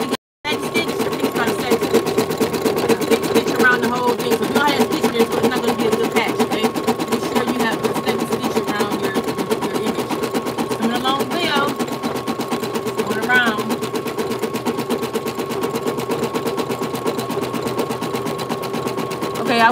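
Embroidery machine stitching a thick patch, a loud, fast continuous rattling of needle strokes running steadily from near start to end after a brief pause.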